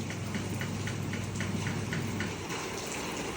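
Heavy rain pouring down, a dense constant hiss with a faint regular ticking of drops on a surface, steady and fairly close with no voices.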